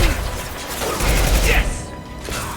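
Gunfire from the video game Mass Effect 2, a dense fusillade of rapid shots and crashing impacts that runs through the whole short burst, loud and close, with game voices calling out in the mix.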